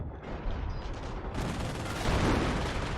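Mortar fire in a strategy video game, with a dense barrage of overlapping booms and blasts rumbling continuously, fairly loud and with no pauses.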